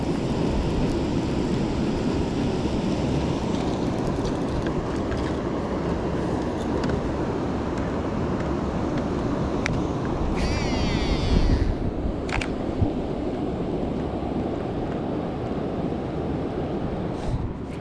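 Heavy roar of water pouring over a dam in Ontario, a continuous broadband rush that stays loud and steady throughout, heard close with no break in the flow.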